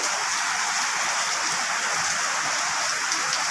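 Heavy rain pours down steadily during a flood, a dense, unbroken hiss close around with no let-up.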